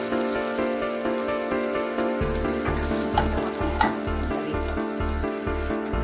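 Garlic fries in a pan for a chicken tamarind soup, giving a loud, continuous crackling sizzle up close, with a low steady hum underneath and no talking.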